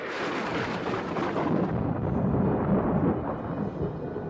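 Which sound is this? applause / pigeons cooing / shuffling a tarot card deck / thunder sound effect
thunder sound effect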